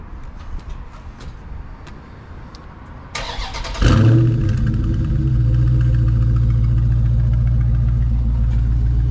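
A Dodge Charger 392 V8 cold starts: a quiet lead-in, a sharp cranking catch, then a loud bark settling into a steady, heavy, close idle rumble.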